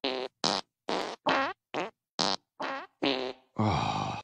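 Rapid string of cartoon fart sound effects in a Family Guy hotel scene, about nine short punchy bursts in quick rhythm ending in a longer rasp, loud and close, with no voices.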